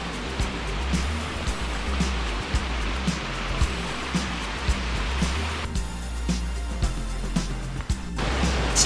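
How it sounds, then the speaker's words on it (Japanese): A mountain stream on a Hakone hiking trail rushes and splashes steadily near a waterfall, a loud, close broadband wash of flowing water with small bumps and clicks throughout. "次第に水の流れが多くなり、近くにもう滝があることが分かります。"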